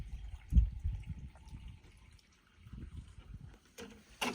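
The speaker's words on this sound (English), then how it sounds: "I'm going to add some muriatic acid to this" Muriatic acid is poured into a pool salt cell, a soft liquid trickle and splash with low gurgles, close and moderately quiet, tapering off before a short burst of noise at the end.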